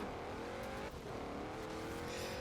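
A Dodge Ram truck engine in the Forza Horizon 4 racing video game drones loudly and continuously with a rising pitch under acceleration, with no talk over it.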